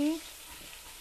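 Ground spice paste for rica-rica frying in a pan, a brief, steady close sizzle with a faint voice-like tone at the very start.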